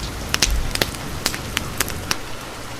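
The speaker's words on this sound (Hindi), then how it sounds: "रात भर बरसात होती रहती है।" Heavy rain falling at night, a dense steady hiss with scattered sharp drop-like clicks and thumps, moderately loud and continuous with no voices.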